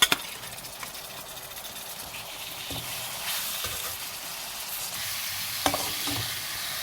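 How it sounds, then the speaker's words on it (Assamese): Chicken pieces coated in red chili, coriander powder and garam masala fry dry in a pan for biryani, a steady bright sizzle with occasional spoon clacks and scrapes as the meat is stirred. "মাংসখিনি দি ললো এতিয়া ভালদৰে এইখিনি মিক্স কৰি অকণমান সিজিবলৈ দিম"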